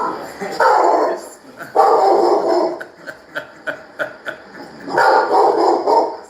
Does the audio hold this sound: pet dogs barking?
yes